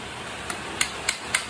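Hammer striking nails to fix an iron fish-spear head onto its wooden shaft, four sharp metallic taps spaced about a quarter-second apart, close and fairly light, with no talk.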